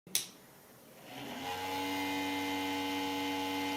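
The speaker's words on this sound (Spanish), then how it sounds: "Si ustedes tienen una PC que al encenderla suena así" A dirty, noisy PC power supply fan starting up: a sharp click, then a motor whine that rises in pitch and settles into a steady, loud, tonal drone with a rough, rattling edge.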